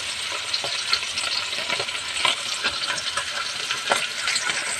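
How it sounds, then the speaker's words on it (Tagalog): Tamban fish sizzle in hot oil in a pan, a steady dense crackle with scattered pops, close and constant throughout. "Nagprito po lamang ako ng 6 na piraso"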